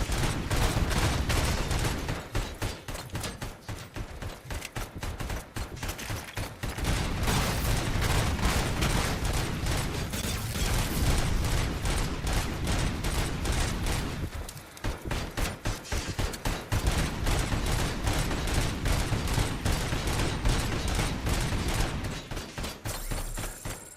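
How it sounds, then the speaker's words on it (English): Sustained rapid-fire bursts from a mini SMG in the RoboCop: Rogue City video game rattle on loudly and almost continuously, with a few brief gaps between volleys. "Mini SMG or micro SMG."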